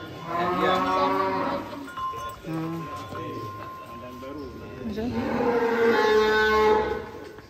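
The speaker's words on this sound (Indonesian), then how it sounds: "Ini sapi yang mana tuh ya?" A cow moos loudly at close range on a farm during a cattle show, with long drawn-out lows over steady chatter from people nearby.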